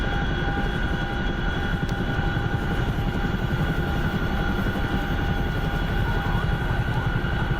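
A Chinook helicopter in a video game drones steadily throughout, a dense, continuous rotor-and-engine rumble with no speech over it.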